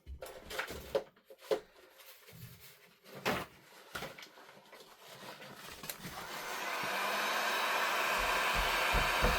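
A small heat tool or hair dryer switching on to dry purple ink on a stamped card, starting after a few scattered handling clicks and taps, then a steady rising whoosh that fills the rest, close and moderately loud.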